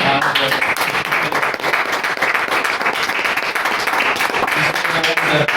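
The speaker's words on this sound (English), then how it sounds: "want to give another big round of applause." A live audience at a talk on threats to liberty breaks into sustained applause, dense, even clapping that stays loud throughout.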